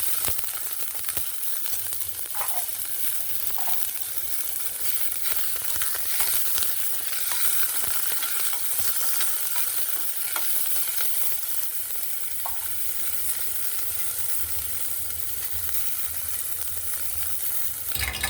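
Onion and curry leaves frying in a pan of oil for veg manchurian, giving a continuous bright sizzle with occasional crackles and a few faint stirring scrapes, with no one speaking.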